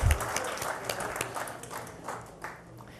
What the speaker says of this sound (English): Everyone, let's give a very big round of applause to the panelists.